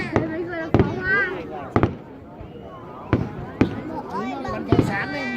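Festival fireworks at Phat Tich in 2018 burst in several booming explosions at irregular intervals, with crackling between blasts and people talking and exclaiming throughout.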